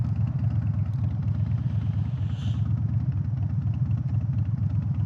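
A motorcycle engine idles steadily and close by, a continuous low rumbling throb with some light mechanical clatter, heard alone with no talk.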